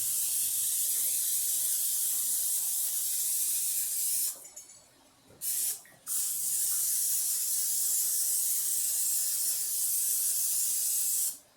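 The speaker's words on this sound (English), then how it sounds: "I'm going to spray my muffin tins." Cooking spray hisses onto a metal muffin tin and silicone muffin cups: a close, loud, steady spray with two brief pauses partway through, and no talking.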